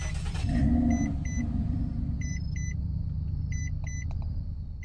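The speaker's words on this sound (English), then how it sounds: "And then there's the 2009 Mitsubishi Hunter. This is also a very underlooked car. Just hear the startup on this," A 2009 Mitsubishi Hunter engine starting in a video game: a brief crank rising into a low steady idle rumble, with repeated short electronic beeps chiming over it.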